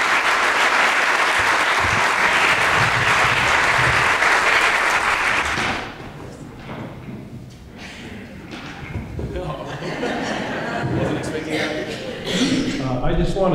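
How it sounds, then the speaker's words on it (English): Audience applause at a film screening fills the first six seconds with dense, loud clapping, then gives way to quieter room noise, scattered thumps and talk as the stage is set up. "if we could give a round of applause for Dave and Joyce and Gregory."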